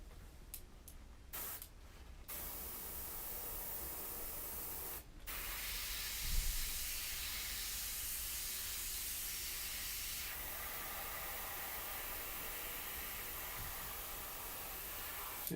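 Airbrush spraying paint for a greenhouse graphic, a steady close hiss that runs continuously after a few short bursts at the start.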